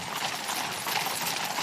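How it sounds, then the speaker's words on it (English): Horses' hooves clip-clop steadily as they pull the 1902 State Landau coach in a royal cavalcade heading toward Windsor Castle, a continuous broadband clatter at moderate distance with no voices. "Among the horses, as the cavalcade swings along towards the George IV gates and up to Windsor Castle, Forrest Foreman on his first state duty."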